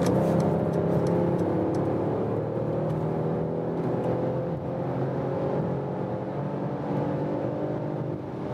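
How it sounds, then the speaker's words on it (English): A Mercedes E-Class All-Terrain in Sport Plus mode pulls hard from 100 km/h, a steady engine drone rising in pitch under road and wind roar, heard from inside the cabin. "let's go back to Sport Plus mode to have the biggest boost. And once more acceleration from 100 kilometers up"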